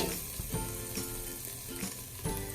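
Meat and vegetables sautéing for a stew, a constant close sizzle broken by rhythmic scraping knocks of a utensil against the pan roughly every half second.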